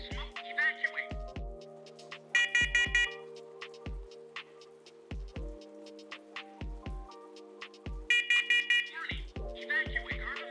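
A First Alert SCO500 wireless smoke and carbon monoxide alarm sounding during a test, with loud repeated shrill beep patterns alongside a synthesized warning voice announcing an evacuation, close and piercing.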